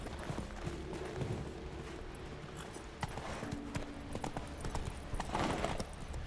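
A horse trotting in the video game The Witcher 3 gives a steady run of clip-clop hoofbeats close by, mixed with game ambience, and a brief voice urges it on.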